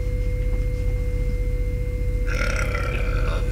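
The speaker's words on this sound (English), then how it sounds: "that burp did not sound healthy, did it?" A loud, drawn-out burp from a character in the video game Metal Gear Solid 2 rumbles low and steady for several seconds, then turns rougher and brighter near the end.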